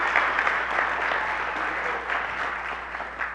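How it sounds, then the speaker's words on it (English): A church congregation applauds during a Sunday morning service, a steady, full patter of clapping hands that carries evenly from start to end with little else heard. "Let's give them a big round of applause"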